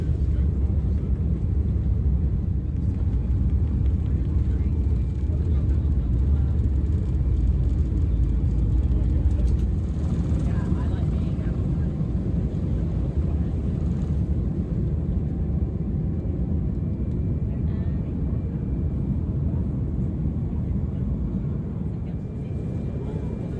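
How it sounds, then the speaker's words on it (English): A British Airways Boeing 787-9 rolling down the runway on takeoff, a deep, steady roar heard from inside the cabin, broad and constant throughout with a slight easing toward the end. "We were cleared for takeoff and we were off down the runway."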